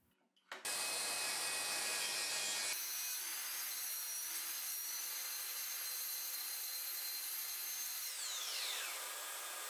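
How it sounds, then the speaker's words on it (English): A blunt power saw in a rail starts abruptly and whines steadily through wood for several seconds, loud and continuous, with the pitch dropping slightly near the end. "with a blunt saw in its rail,"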